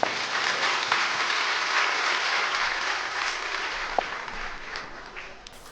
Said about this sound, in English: let us give a warm round of applause to Mr. Danny Moran, the PAREF chairman